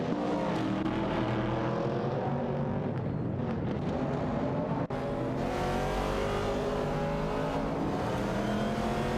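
TransAm race cars lapping Laguna Seca in a racing video game, with layered engine drones and whining revs continuing steadily and loudly throughout, with no voices.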